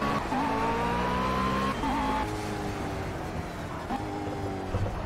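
A McLaren race car in Project Cars drifting, its engine droning at a steady pitch that drops with each shift while tires squeal in bursts; no voices.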